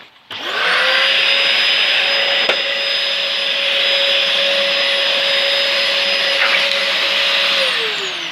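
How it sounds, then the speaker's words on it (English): Dyson DC04 limited edition vacuum cleaner switched on, rising quickly to a loud steady whine and rushing airflow that holds for several seconds before winding down at the end; no speech. "As you can tell, the sweeping action of that Dyson would blow any vintage Hoover away."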